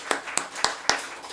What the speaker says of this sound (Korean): 하나님께 영광의 박수를 칩니다